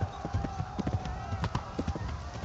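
Rhythmic clip-clop of horse hooves in the Kingdom Come Deliverance video game, steady and fairly close, running under game music, with a brief whinny.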